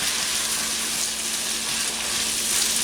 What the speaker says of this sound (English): I'm just going to kind of stir those around, mix in the bacon and the onions and the peppers